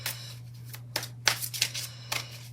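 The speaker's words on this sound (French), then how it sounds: "je n'ai pas envie de faire sauter les cartes, donc je continue de mélanger jusqu'à ce que je sente que on est bien" A deck of playing cards is shuffled by hand in repeated riffling bursts, close and crisp, with a steady low hum running underneath and no talk.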